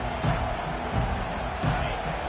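A college football stadium crowd roars in a steady, broad wash of noise, with rhythmic surges and thumps rising out of it several times.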